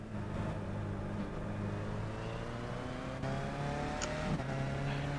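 A Skip Barber race car in the iRacing sim at Sebring accelerates down a straight, its engine a steady droning tone climbing gradually in pitch, loud and continuous with no talk.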